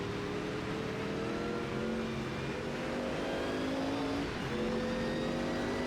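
A Group C sports car engine roars in the Automobilista 2 racing game, a loud continuous drone whose pitch rises and dips as the throttle changes, with no talking.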